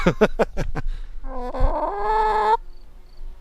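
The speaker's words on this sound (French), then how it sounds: "Et ça c'est une poule, regarde." A hen clucks in a quick run of short, sharp notes, then lets out a longer drawn-out squawk, close and loud.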